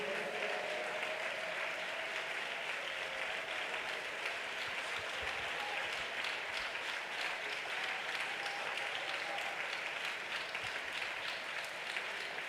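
A congregation at a Sunday church service claps hands together in praise. The applause is a steady, even wash at moderate distance, sustained for a long stretch with faint tones underneath.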